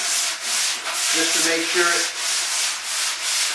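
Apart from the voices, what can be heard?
sanding spackle with a coarse sanding sponge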